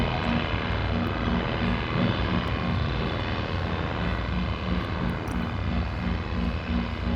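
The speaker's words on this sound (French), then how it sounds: "je dirais un hélicoptère un peu élevé." A video game helicopter drones steadily, its rotor thrumming in a constant mechanical whir that stays even and moderately loud throughout, with no speech.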